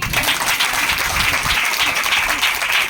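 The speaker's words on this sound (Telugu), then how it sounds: "చప్పట్లు కొడుతాం." A crowd at a church gathering applauds, a dense, even wash of many hands clapping that holds steady throughout without any voices.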